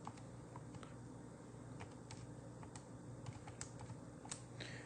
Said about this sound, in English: let me type in my calculator real quick